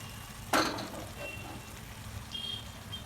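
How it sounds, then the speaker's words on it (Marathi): Fish fries in a pan with a soft, steady sizzle, punctuated early by one brief louder crackle as oil spits, then settling back to a faint, even hiss. "त्याला आता मस्त असं फ्राय होऊ द्यायचं."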